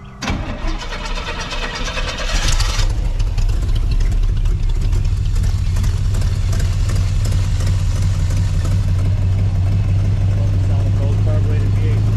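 A carbureted V8 in a Nissan 350Z drift car cranks and fires up, then settles into a loud, deep, rumbling idle close by. Voices talk over it at the start.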